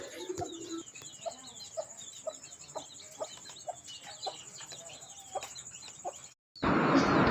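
A mother hen with chicks clucks softly in short repeated bursts with faint cheeps mixed in, ending in a sudden rush of louder noise.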